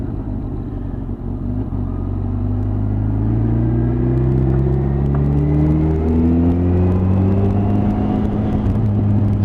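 A motorcycle cruises along a road on the ride home, its engine a steady close rumble with gentle rising and falling tones as it holds speed and shifts, wind noise underneath and no talking.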